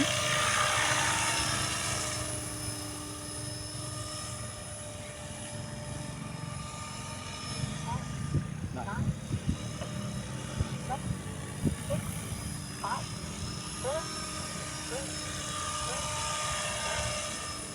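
A remote-control Trex 500 helicopter fitted with an MD500 scale body flies over the UP Field, its rotor and motor giving a steady high whine and buzz throughout, with a voice talking faintly underneath.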